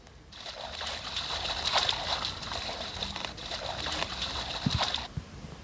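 Game character swimming through water, a continuous close splashing and sloshing for several seconds, ending with a couple of soft thumps.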